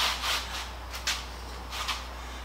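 Hand-cutting a wooden corner brace with a quarter-circle radius for a restored antique tool box, heard as soft, uneven rasping strokes with a few brighter scraping bursts, fairly close and without talk.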